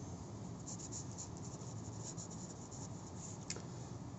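A pen writes data by hand on paper, a continuous soft scratching that stays close and steady, with a faint tap partway through and no talking.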